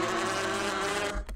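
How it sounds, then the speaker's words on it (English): Three layered wasp buzzing effects from the Fun Run Arena video game, one steady, one bent upward and one falling, forming a dense, loud, continuous swarm drone with no talk over it. "all the three wasps sound like this."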